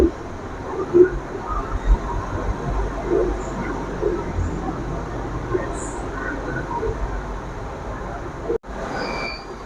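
KL Monorail train at Bukit Bintang station in Kuala Lumpur: a steady rumble of the train and station ambience under the platform, with a brief sharp knock near the end.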